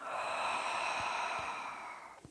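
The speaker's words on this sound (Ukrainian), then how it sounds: "І ще вдих. Видиха." A slow, deep breath during a guided morning breathing practice, a soft airy inhale flowing into a long exhale, close and quiet with faint nasal puffs near the end.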